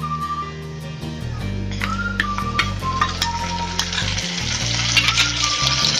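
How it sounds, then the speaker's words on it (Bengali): Onion paste sizzles and fries loudly in a pan for egg korma, a steady crackling hiss over a low hum, with faint whistling tones and no one speaking. "এবার আমি পেঁয়াজ বাটাটা দিয়ে দেবো।"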